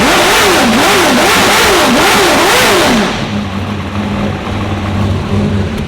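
A V8 engine fitted with headers barks through rapid rhythmic revs for about three seconds, then drops into a loud, lumpy, rumbling idle close by.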